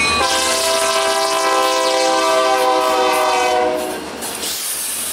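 Indiana Ohio Railroad locomotive 3488 rolls past, its horn sounding a long sustained chord over the steady rumble of the train, loud and close, then easing as the engine moves on.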